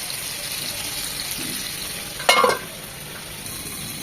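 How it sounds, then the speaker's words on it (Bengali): Beef shik kebabs fry in a kadai pan with a steady, close sizzle throughout, broken by a brief louder clatter of stirring or turning partway through; no one speaks. "সেমভাবে আমি এই শিকগুলো ভেজে নেব।"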